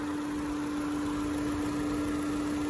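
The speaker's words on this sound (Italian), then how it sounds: "Motore silenzioso" A Renault Clio engine idles quietly and evenly, with a steady, faint hum and no revving or other sounds.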